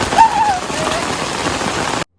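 Heavy rain pours down in a dense, steady hiss of falling water, loud and continuous until it cuts off abruptly.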